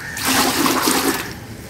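Water pours into a bucket in a short, loud gushing rush that swells quickly, then eases into a softer trickle, with no voices over it.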